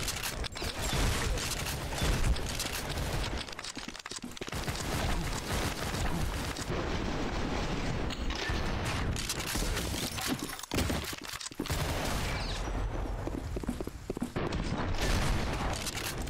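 SPAS-12 shotgun fired repeatedly in the first-person shooter Maximum Action, dense overlapping blasts and clattering mechanical pump and reload sounds nearly nonstop, with a few brief gaps.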